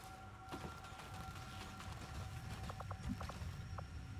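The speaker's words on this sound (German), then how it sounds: "Da habe ich schwere Schritte gehört, so etwa in die Richtung." Heavy alien footsteps in the video game XCOM 2, a run of dull, clomping thuds under low game ambience and a faint steady tone, with a cluster of sharper steps toward the end.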